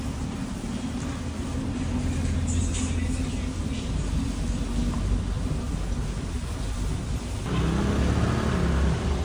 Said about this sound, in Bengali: দেখতে পাচ্ছি চারিদিকে জ্যাম।